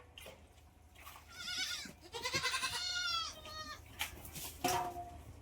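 A goat on a farm bleats several times, loud and nearby, in wavering cries with short pauses between them, set against quiet outdoor background noise.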